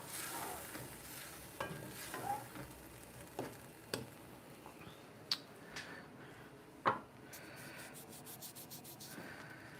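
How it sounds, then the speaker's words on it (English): Sofrito and soya chunks sauté in a pan for a vegan Puerto Rican sancocho, giving a steady soft sizzle under close scraping and rubbing strokes of stirring, with no voices. "we are sauteing the sofrito and the soya chunks together"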